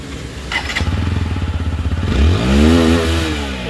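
A TVS Apache RTR 160 4V limited edition motorcycle engine idles with a steady pulsing beat, then revs up loudly around the two-second mark and holds a rising, roaring pitch close by, with no talking.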